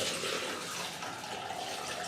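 Maraschino cherry liquid pours out of a jug through a strainer, a soft, steady trickling splash heard close and fairly quiet.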